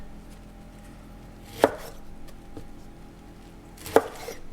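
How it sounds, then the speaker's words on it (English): Knife halving Brussels sprouts on a cutting board, two sharp, distinct chops roughly two seconds apart over a quiet room, no talking. "Just cut them in half and put them in an oven safe dish"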